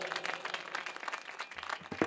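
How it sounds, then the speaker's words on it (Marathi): Scattered applause from a kirtan audience at a memorial gathering, a soft, dense patter of many hands clapping at a distance, fairly faint, with a few low thumps near the end. "आमच्या बहिणीसाठी, आमच्या भावासाठी जोरात टाळी वाजवा जरा"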